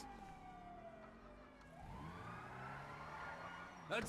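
A police siren wails in Grand Theft Auto 5, its rising and falling tones faint and somewhat distant beneath game engine hum, ending with a brief loud burst.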